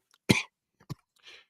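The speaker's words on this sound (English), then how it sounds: "Oh my God, why am I coughing so much?" Several coughs from one person, a loud harsh burst followed by a shorter cough and a faint breathy tail, close up with no talk around them.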